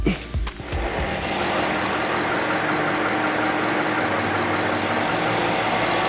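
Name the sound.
vehicle engine cranked and idling at operating temperature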